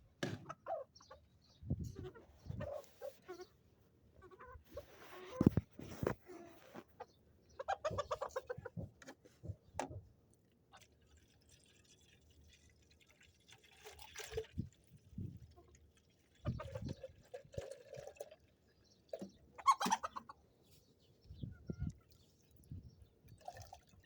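Chickens cluck close by in scattered bursts with quiet gaps between, sounding like a small farmyard flock.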